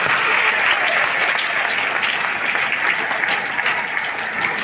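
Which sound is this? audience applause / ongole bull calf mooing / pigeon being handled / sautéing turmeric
audience applause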